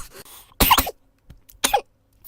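A coughing fit from one person, two harsh, loud bursts of coughing close to the microphone separated by a short pause, with a faint throat-clearing sound before them.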